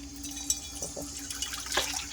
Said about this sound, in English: Rinse that out first and rinse this out